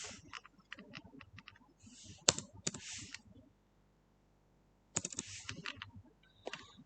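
Fingers typing on a computer keyboard in bursts of quick clicks, a short pause, then more typing; close and fairly quiet, with no talk.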